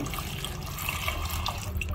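Water poured into a pot holding pork hock with onion and pepper for boiling, a steady close splashing and gurgling pour with no talk.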